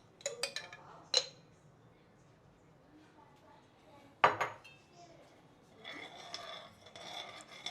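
A utensil clinks and scrapes against a clay pot on a ceramic hob as garlic oil is spread across the bottom. The sharp taps come in short bursts with quiet gaps, and softer rubbing follows near the end.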